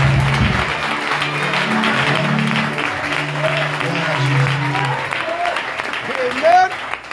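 Congregation applause during a church service, a steady wash of clapping that runs through the whole stretch with voices and tonal sounds layered on top.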